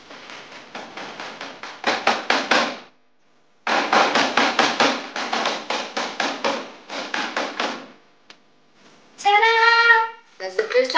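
Coffee beans are pounded with a hammer outdoors at a camp, a close series of rapid tapping blows in bursts separated by short pauses, followed by a brief spoken remark.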